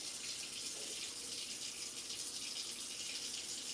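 A kitchen sink tap runs in a steady, even hiss of flowing water while a pot is washed up, close and continuous with no talk.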